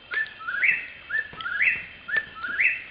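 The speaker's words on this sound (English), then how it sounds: "The next bird we are going to listen to is whip poor will. It's an actual bird." Whistled whip-poor-will call repeated three times in a steady rhythm, each phrase ending in a bright rising note, clear and close with no talking.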